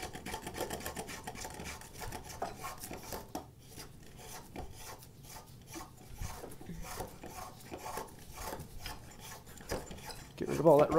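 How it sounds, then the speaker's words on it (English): Spokeshave shaving wood on a turning saw build, a steady run of close, raspy strokes repeating for several seconds with a brief louder scrape at the end. "I'm coming with a spoke shave and clean this up."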